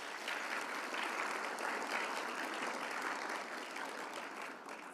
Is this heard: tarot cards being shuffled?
no